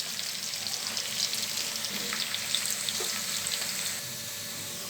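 Onions frying to golden brown in hot coconut and peanut oil, a steady close sizzle with light crackles and occasional stirring, easing slightly near the end.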